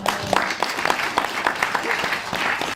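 Audience applause at the opening of the Les Couleurs Du Court film festival at 100 ECS Paris, a brisk, close burst of clapping that cuts off abruptly.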